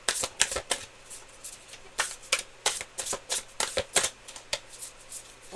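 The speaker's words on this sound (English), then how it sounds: "Last shuffle." Rapid rhythmic riffling of a tarot deck being shuffled up close, repeated bursts of papery flutters over several seconds.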